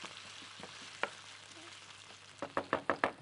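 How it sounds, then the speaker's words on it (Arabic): Grated onion sizzling in a pan as it is stirred, a steady fry hiss with scattered scraping taps that quicken into a rapid run of stirring strokes at the end. "نبدا كده نقلب اه تدبل البصله المبشوره بتاعتي"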